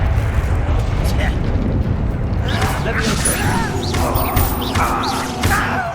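Confringo fire spell blasting in the Hogwarts Legacy video game, a loud rumbling burst with crackling debris over sustained low roar, with voices and game effects mixed in.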